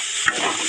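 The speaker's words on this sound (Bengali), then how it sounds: "আর এদিকে দেখো উচ্ছে ভাজা হচ্ছে" Bitter gourd (uchhe) frying in a pan, a brief steady sizzle, close and fairly loud, with a faint stir or clink partway through.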